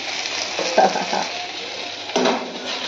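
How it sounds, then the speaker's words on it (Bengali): Ivy gourd (kundri) frying in a pan in a home kitchen, giving a steady close sizzle with brief stirring scrapes about a second apart. "আর এদিকে বললাম না যে কুদরিটা ভেজে ফেলছি।"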